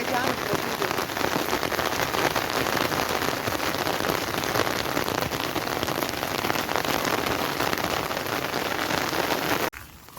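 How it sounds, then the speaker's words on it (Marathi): Steady rain falls outdoors at a village viewpoint in the Konkan hills, a dense, loud, even hiss of drops on surfaces that continues unbroken and then cuts off abruptly at the end. "आता मस्त पाऊस पण आला"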